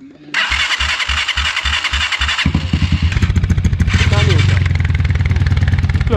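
A motorcycle engine, one of the Eagle 200, Zhujiang 150 or Champion 150 bikes being fixed on the block, is cranked over in rhythmic pulses, then fires and runs up to a loud, steady, revving idle.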